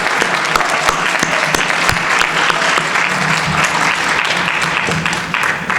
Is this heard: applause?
yes